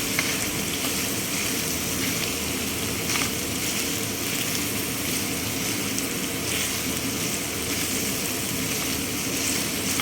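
Ground black pepper, red chilli powder and cumin powder fry in a pan, giving a steady, close sizzle that runs continuously with faint scraping from stirring and no talk.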